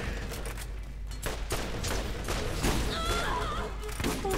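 Rapid gunfire bursts and heavy booms from the video game Borderlands, with a grenade blast among them, fire in dense, loud volleys. Game sound effects chirp in the mix and a voice is faintly heard.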